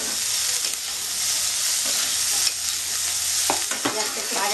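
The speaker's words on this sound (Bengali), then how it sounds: "এটা ভাজা ভাজা হয়ে গেলে, পেঁয়াজটা একটু নরম হয়ে গেলে" Onions frying in oil in a pan, a loud, continuous close-up sizzle with occasional stirring scrapes near the end.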